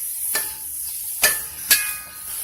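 Three sharp scrapes of a utensil stand out as zucchini and walnut mock meat pasta is mixed in a pan. A faint high sizzle and low background noise sit beneath them.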